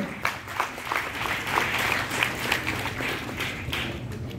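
An audience claps through a speech event on Vivekananda, a dense, steady round of applause from many hands, close and fairly loud, with no voices over it.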